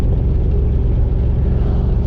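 A 1991 GMC 1500 pickup truck on stock suspension, heard from inside while driving: a loud, steady low engine drone and road rumble with no change in pace.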